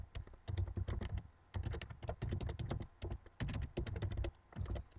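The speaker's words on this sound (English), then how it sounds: "I'm going to type in these speech marks my YouTube URL" Rapid, close typing on a computer keyboard while entering JavaScript code, in bursts of quick clacking keystrokes separated by brief pauses, loud and clear with no talking.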